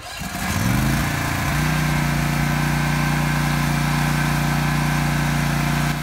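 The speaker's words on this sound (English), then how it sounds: "I prefer to back the zero turn into the trailer and then pull out forward." Toro TimeCutter zero-turn riding mower engine starts and settles into a steady, loud idle hum, running alone and close for several seconds on a cemetery mowing job.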